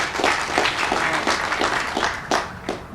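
Audience applause at a groundbreaking for a new Kaiser Permanente Mid-Atlantic headquarters building, a brief burst of scattered clapping with a few sharp individual claps standing out.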